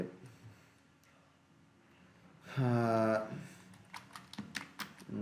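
Soft, sparse clicks of a computer keyboard tap out a search in a web browser, quiet and irregular, following a brief stretch of speech.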